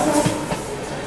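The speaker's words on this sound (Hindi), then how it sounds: "प्लेटफॉर्म नंबर 1 BAP 7 के साथ हावड़ा शेड के नेताजी एक्सप्रेस" The Netaji Express, hauled by a Howrah-shed WAP-7 electric locomotive at platform 1, gives a brief, moderately faint rail rumble with a thin high whine.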